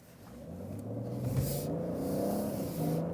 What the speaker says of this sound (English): When I accelerate out almost from standstill